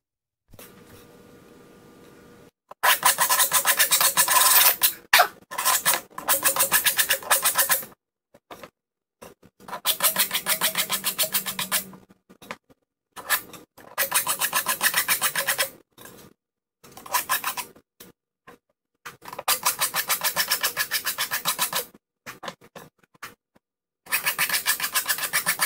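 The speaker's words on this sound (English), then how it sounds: "laying it fairly flat with the fine metal rasp side, and just deburr it." A fine metal rasp files across the edge of a lawnmower blade to deburr it, giving repeated bursts of close, bright rasping strokes separated by short pauses, with no talking.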